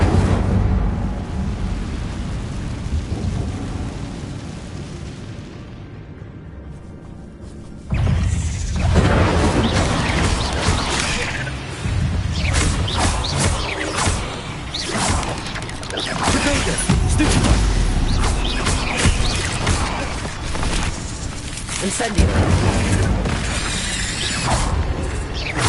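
The Incendio fire spell is cast in Hogwarts Legacy, and after a quieter stretch a sudden loud burst of crackling, rumbling fire and impact effects breaks in and carries on in repeated surges.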